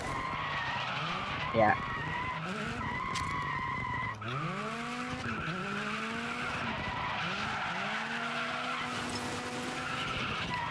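In the DIRT 5 racing game, a car drifts through a close corner, its engine rising and falling in revving sweeps under drawn-out tire skids, with someone speaking briefly over it.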